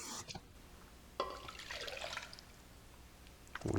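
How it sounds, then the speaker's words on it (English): Water is poured into a cooking pot to start a pork chop dish with peppers and capers, a short splashing pour in the middle with small clatters at either end. "And we'll go with some water."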